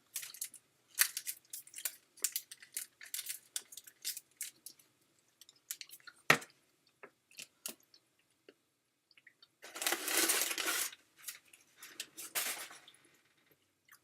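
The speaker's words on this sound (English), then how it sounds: "It is like a big toffee bar. Oh, geez, this is bad. I just took a small bite out of it." Sticky, chewy toffee from a large Canadian candy bar being chewed close up, with soft wet squishes and clicks in irregular bursts and a louder sustained stretch of smacking midway, no talking.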